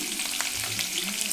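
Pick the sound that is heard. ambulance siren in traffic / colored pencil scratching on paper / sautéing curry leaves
sautéing curry leaves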